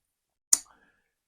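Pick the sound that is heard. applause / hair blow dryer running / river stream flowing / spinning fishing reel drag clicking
spinning fishing reel drag clicking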